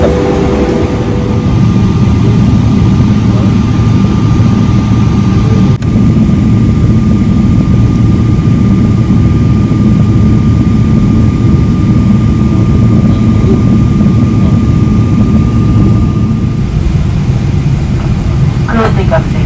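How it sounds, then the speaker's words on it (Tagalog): Steady low engine roar inside an airplane cabin, a continuous broadband drone with a faint steady whine, loud throughout and running under a passing voice. "Dito na kami sa loob ng aeroplano"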